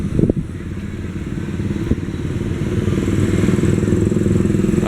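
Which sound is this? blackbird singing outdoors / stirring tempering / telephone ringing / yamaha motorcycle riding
yamaha motorcycle riding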